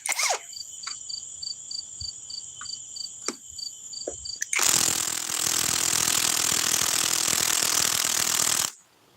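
A Bosch cordless power tool takes the legs off a piece of furniture: a steady high whine with a few sharp clicks, then about four seconds of loud, harsh, broadband driving noise that stops abruptly.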